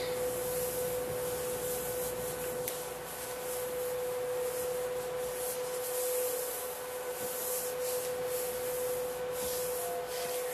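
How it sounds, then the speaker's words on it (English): Lavender essential oil lotion is rubbed into a leg by hand, giving a soft, steady friction hiss that continues for about ten seconds over a faint constant background tone. "So let's rub it into the leg and see what happens."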